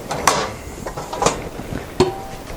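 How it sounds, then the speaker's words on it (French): A metal saucepan is handled while cooking, producing a few scattered clanks and knocks of metal against metal at irregular intervals, close and moderately loud. "on va changer de casserole."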